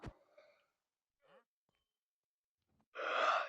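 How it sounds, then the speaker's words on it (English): A person lets out one drawn-out, breathy yawn near the end, close and fairly loud, after a few soft breaths and small mouth sounds separated by silence. "Sorry, I had to yawn."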